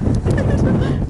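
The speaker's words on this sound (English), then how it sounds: "It's so windy." Strong wind buffets the microphone outdoors in Zagreb, Croatia on a cold day, a steady low roar with a few faint higher tones above it.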